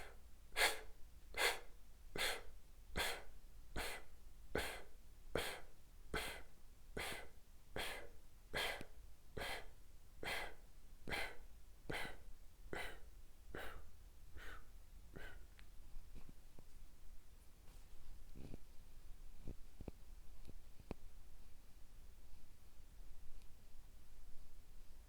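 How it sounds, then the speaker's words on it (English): Someone does a breathing exercise, drawing air in through pursed lips as if sipping through a straw. About nineteen short, sharp inhales come in a steady rhythm, close and clear. Then quieter, scattered breaths follow. "sipping in air like you would if you were doing it through a straw"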